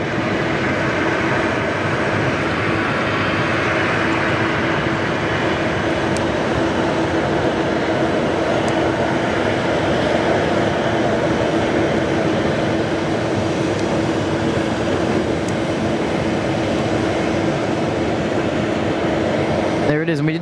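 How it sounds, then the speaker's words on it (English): A Velocity jet airliner taxiing onto a domestic apron at Sydney Airport, a steady loud turbine whine and rumble carrying on throughout, with a voice speaking over it. "Another Velocity just coming around the corner here into the domestic 3 apron."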